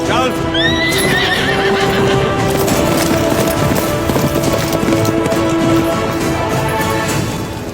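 A horse whinnies loudly near the start, then hooves clip-clop steadily on hard ground under a dense film soundtrack with drawn-out musical tones and a voice briefly speaking.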